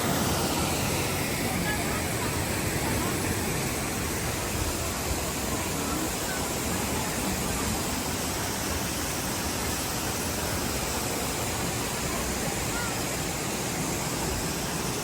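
Water rushing down the Tsuen Wan waterfalls, a loud, dense, unbroken roar that fills the whole clip and stays steady from start to finish.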